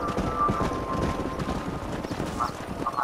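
A horse gallops in the video game Red Dead Redemption, its hooves clip-clopping in a steady, fast rhythm with a faint tonal hum underneath.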